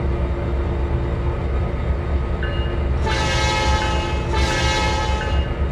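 A tram in the railway simulator game Trainz 2022 rumbles steadily, its low running noise joined about halfway through by a bright, horn-like tonal blast that sounds twice, with no talking.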